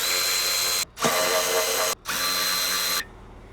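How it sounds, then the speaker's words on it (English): An electric ratchet removes the under panel of a Ford vehicle, whirring loudly in two sustained close bursts split by a brief stop, then cutting off. "I'm going to use an electric ratchet to remove the under panel"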